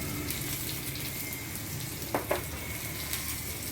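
Mustard seeds and chillies frying in hot oil for mango pulissery, giving a steady soft sizzle with a couple of brief sharp pops near the middle.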